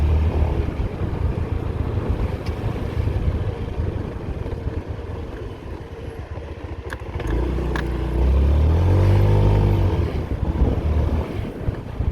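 A Honda PCX 150 scooter rides over rough, worn asphalt, its engine a low steady drone under heavy wind buffeting, with a brief rising whine and a few faint clicks partway through.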